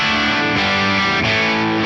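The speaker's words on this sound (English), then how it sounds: "That's a lovely crunchy AC30 style tone." Electric guitar through a Class A 30-watt amp model with a crunchy AC30-style tone, a loud, dense distorted chord sustained for about two seconds.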